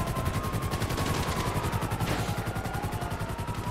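Rapid automatic gunfire in Grand Theft Auto V, a dense unbroken stream of evenly spaced shots, loud and close, running the whole time with no talking.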